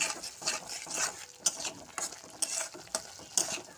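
Turmeric, cumin and coriander spices being stirred in a hot pan, with repeated scraping strokes over a soft frying sizzle, close and steady with no talking.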